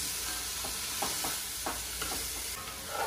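Chopped onions sweat in a pan for a beef stew, giving a steady soft sizzle with a few light scrapes and stirs throughout.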